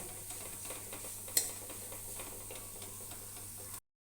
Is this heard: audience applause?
no